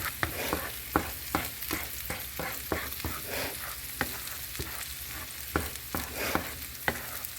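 Sausage cooks in a pan for breakfast croissant pastries, a steady sizzle under repeated sharp scrapes and taps of a utensil stirring the meat, close and fairly quiet with no voices.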